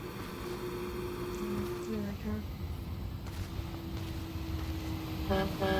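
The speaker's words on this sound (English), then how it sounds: "Is he honking at me?" A truck on a hot desert road in the Life is Strange 2 video game sounds its horn in short toots over road and engine noise, the loudest blast near the end, while a person talks.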